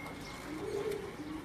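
A special-breed pigeon coos softly and briefly up close, a low murmuring call over faint background noise.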